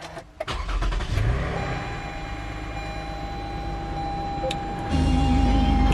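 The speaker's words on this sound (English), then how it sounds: "So I'll just start it up quickly while I show the engine and such." A 2015 Toyota Sienna XLE minivan engine cranks and catches after a few clicks, settling into a steady mid-pitched idle that rises slightly near the end, heard close up without talking.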